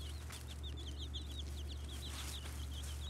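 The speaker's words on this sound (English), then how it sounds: "Baby chicks are 2 weeks old." Two-week-old leghorn chicks give a rapid series of high, thin peeps close by. The chirps run continuously over a low background hum.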